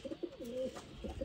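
Branded pigeons of a hunting breed coo in a few soft, rolling calls, close but quiet, with no talking over them.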